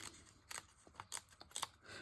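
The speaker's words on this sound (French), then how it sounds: "Je le coupe à un autre endroit, je le déchire à un autre endroit." Paper being cut with scissors and torn for an art collage, heard as soft snips and brief rips close by in an irregular run of short, quiet bursts.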